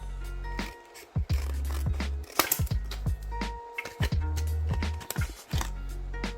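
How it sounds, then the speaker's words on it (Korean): Large scissors slice through the marked cut line of retail packaging for a microSD memory card, giving a series of close, crisp snips and crinkles in irregular bursts, with no talking. "여기에 가위선이 있으니까 좀 큰 가위로 한번 잘라볼게요"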